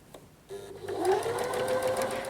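A sewing machine runs a regular straight stitch while understitching the facing of a dress. After a brief quiet start, the motor whirs up steadily and close, holding an even hum to the end.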